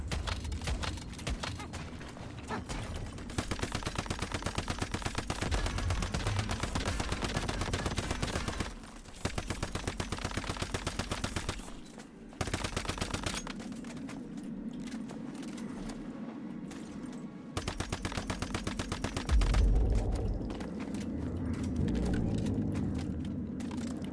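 Rapid bursts of gunfire in the survival shooter Once Human, loud and sustained in long volleys with a few short breaks and one heavier boom near the end.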